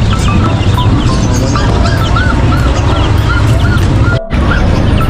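A dense, noisy flock of Rhode Island chickens at an animal market clucks and squawks continuously, with repeated short calls rising above a loud, crowded background.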